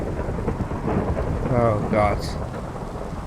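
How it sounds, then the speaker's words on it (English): Steady rain hisses throughout a Minecraft world while low thunder rumbles build and roll in the middle, fairly close and loud, with a brief voice exclaiming over it. "And all of a sudden it starts raining."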